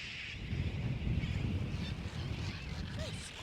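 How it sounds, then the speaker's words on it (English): Sooty terns squabbling at a nesting colony on a coral cay, a dense chorus of overlapping harsh calls and honking cries over steady wind, continuous and busy with no single bird standing out. "I think these ones are sooty terns."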